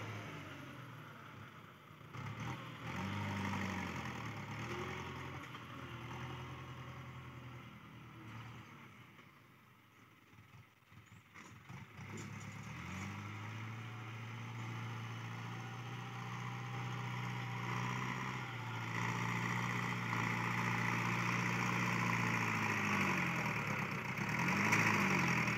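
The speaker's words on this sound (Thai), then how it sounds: "เป็นรถ New Holland นะครับ TS90" A New Holland TS90 tractor pushing soil to fill an old pond runs continuously nearby, its diesel engine droning and knocking, dipping briefly and then rising again as the load and revs shift.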